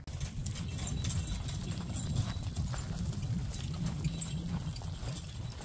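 Donkeys and cows shifting around nearby outdoors, with a steady clopping of hooves and low rumbling movement throughout, fairly close and continuous.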